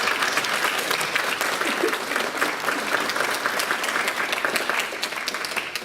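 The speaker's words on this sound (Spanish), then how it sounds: "lo recibimos con un fuerte aplauso" Audience at a university legal seminar applauding steadily as a prosecutor is welcomed forward, a dense, sustained roomful of clapping that holds even throughout and tapers slightly at the end.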